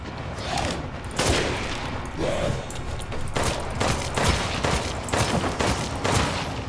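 Explosive rounds from a grenade launcher in the video game Resident Evil Village, a string of loud, heavy booming blasts arriving every second or so amid dense game noise.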